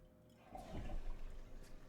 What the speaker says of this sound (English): the toilet's actually flush in this game